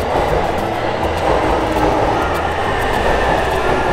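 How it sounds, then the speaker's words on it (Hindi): A train rolls into a station platform in Tokyo, Japan, with a loud, steady rumble and rushing wheel noise that fills the space nearby, no talking over it. "ट्रेन आ रही है"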